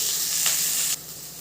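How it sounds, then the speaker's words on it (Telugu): Okra frying in a couple of spoons of oil makes a close, even hiss of sizzling that cuts down abruptly about two-thirds through, leaving a quieter sizzle. "ఒక 2-3 స్పూన్లు ఇలా ఆయిల్ వేసేసి ఒక 15 నిమిషాలు వేయించేస్తాం ఫ్రెండ్స్ బాగా."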